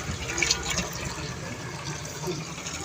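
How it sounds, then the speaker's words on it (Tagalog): Water pours into the 16-liter tank of an insecticide sprayer, a close, gurgling splash that is slightly stronger at the start and then fills steadily. "Nilalagyan na siya ng tubig."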